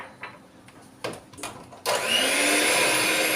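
An electric mixer whisks cheesecake batter of cream cheese, liquid cream, flour, starch and vanilla, starting after a few light clatters and then running as a steady, loud, continuous whir.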